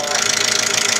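A diesel fuel injection pump for a Mitsubishi Canter runs on a calibration test bench at around 400 rpm, giving a steady, fast mechanical knocking and whirring hum that stays close and even throughout.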